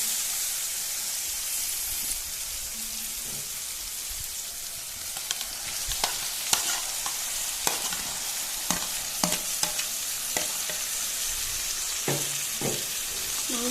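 Pork and potato pieces fry in a pan with tomato and spices as a constant soft sizzle, while a utensil stirs and scrapes through them with irregular knocks.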